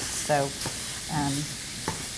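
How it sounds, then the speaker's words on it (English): A hamburger patty fries in a skillet kept on lower heat, giving a soft steady sizzle throughout with a few brief stirring or scraping sounds over it and one short spoken word. "You want to hear it sizzling, but not sticking to the pan."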